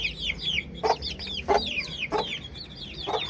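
A mother hen with her young chicks clucks in short repeated bursts, close by, over a steady chorus of high chirping from other birds and faint farmyard background noise.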